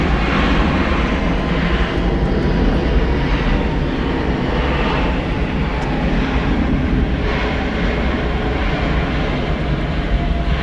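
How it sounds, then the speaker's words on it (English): Delta Airlines Boeing 757-200 landing at Atlanta Hartsfield-Jackson, a loud, sustained jet engine roar holding steady throughout with no voices. "Landing here, Delta Airlines, flight 1444 from Philadelphia."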